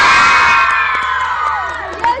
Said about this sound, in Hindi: तो एक दफा बच्चे जोर से चीख मार के बताएंगे,